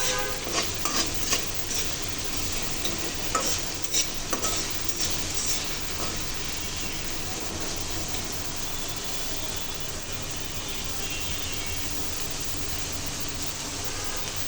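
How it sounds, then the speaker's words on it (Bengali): Yardlong beans and onion are stir-fried in a pan for a home-style fried rice, giving a steady sizzle with occasional scraping and clinks of a utensil at close range, without talk. "বরবটিটা একটু হালকা করে রান্না করবো পেঁয়াজের সাথে"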